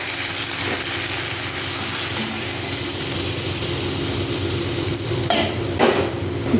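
Vegetables and spices being sautéed in a pan for a potato and pointed gourd curry, with a steady continuous sizzle and stirring scrapes throughout, and a couple of sharper utensil clatters near the end.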